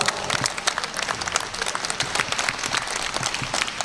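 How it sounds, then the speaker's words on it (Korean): A crowd at a Rotary district conference applauds steadily, dense clapping filling the whole stretch at a lively, even level with no voices standing out. "박수 한번 부탁드립니다."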